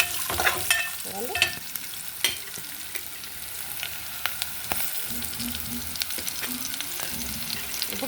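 Foxtail millet upma ingredients fry in a steel bowl, a steady hiss of sizzling oil under clinks and scrapes of a spoon stirring, with a low hum beneath.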